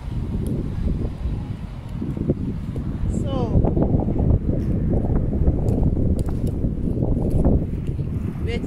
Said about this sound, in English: It's a bit windy, so sometimes the cards fly away.